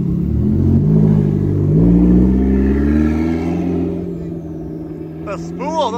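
A Lamborghini Countach fitted with downpipes revs up and settles into a deep, loud engine drone with rising and falling pitch, then a few sharp chirps near the end; people talk over it.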